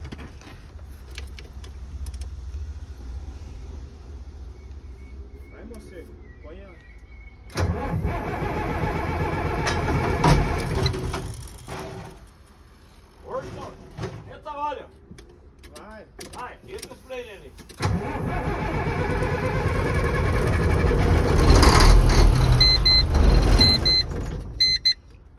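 A 2000 New Holland NH380 truck engine cranks and starts, then runs with a loud, close rumbling idle that rises and falls, with mechanical clunks and a quieter gap between running stretches.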